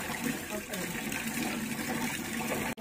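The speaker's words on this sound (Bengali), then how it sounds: "আলু ধোয়া হচ্ছে" Water runs steadily as potatoes are washed, a continuous close splashing flow that holds level throughout and cuts off abruptly at the very end.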